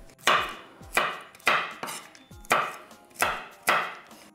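A knife chops walnuts on a board in six sharp, evenly spaced strikes, each a crisp close thud with a short crackle, with no talk over it.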